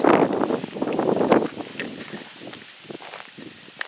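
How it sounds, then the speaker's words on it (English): Strong wind gusts hard across the microphone near a riverside bridge, a loud rumbling buffet that rises and falls and is strongest at the start before easing off, with some rustling and a faint voice underneath. "the wind's blowing hard now"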